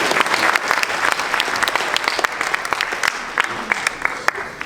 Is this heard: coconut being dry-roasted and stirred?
no